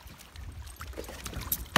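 A kayak paddle dips and splashes in the water from a boat carrying small dachshunds, with soft, irregular strokes over breezy background noise and a sharper splash near the end.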